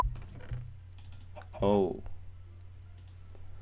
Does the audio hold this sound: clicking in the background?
yes